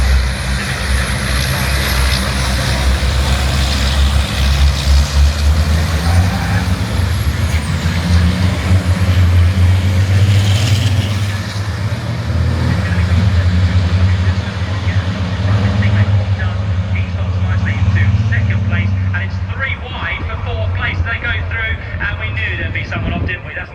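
Racing trucks roar off the start at Brands Hatch, a loud sustained wall of diesel engine noise and rumble building toward the first corner, with commentary talking over it throughout.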